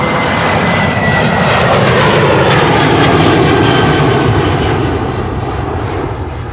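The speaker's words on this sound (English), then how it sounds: "That was KLM flight 1293 to Billund that just now took off." KLM flight 1293 to Billund takes off from Amsterdam Schiphol Airport, its jet engines a loud, continuous close roar with a slowly shifting tone that eases off toward the end.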